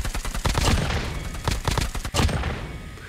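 An ICR-1 rifle fires in the Call of Duty Mobile video game, a few quick bursts of rapid shots with short pauses between them, close and fairly loud.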